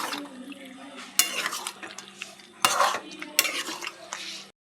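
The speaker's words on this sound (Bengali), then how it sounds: "দিয়ে দেবো গরম মশলা, কাসুরি মেথি। ভালো করে নাড়াচাড়া করে নেব।" Potato curry being stirred in a pot after garam masala and kasuri methi go in, with a spoon scraping and clinking against the metal in repeated bursts over a faint simmer, close and fairly quiet.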